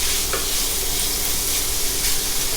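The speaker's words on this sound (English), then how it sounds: "incorporate that until the onion starts to get a little bit translucent" Onions sautéing in a pan for rasta pasta give off a steady, close, broadband sizzle with faint stirring scrapes. No one speaks.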